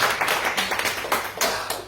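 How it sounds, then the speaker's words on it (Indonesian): A church congregation claps together in a short burst of uneven, overlapping hand claps, close and fairly loud, lasting under two seconds with no talking. "kasih tepuk tangan buat guru Palihin."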